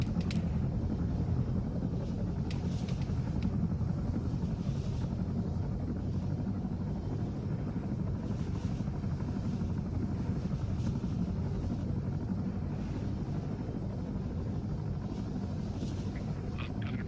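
A helicopter's main rotor in the video game ARMA III makes a steady, throbbing low drone that runs unbroken for the whole stretch, with faint clicks on top and no talk.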